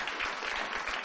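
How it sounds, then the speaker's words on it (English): A television talk show studio audience breaks into a brief, dense burst of applause, heard as a steady crackling wash of clapping that lasts about a second. "Applaud."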